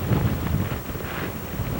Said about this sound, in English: This is definitely the highest gust that we've had so far.